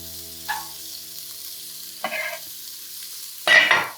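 Carrots hit hot fat in a soup pot with sharp sizzling bursts, three loud surges separated by quieter frying, with no voices.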